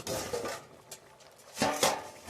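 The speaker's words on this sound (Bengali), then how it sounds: "2 মিনিট হয়ে গেছে, ঢাকা খুলে নেব।" A metal lid comes off a pot of spicy potato and egg curry, two bright clattering clanks of lid against pot with a short quieter gap between, close and clear.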